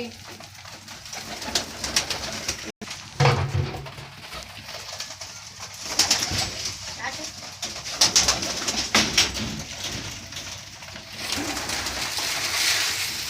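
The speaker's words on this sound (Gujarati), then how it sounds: "જોઈ શકો છો મારા કબૂતર ચણે છે." Pigeons coo repeatedly nearby in soft, rolling calls, with light shuffling and scattered background noise.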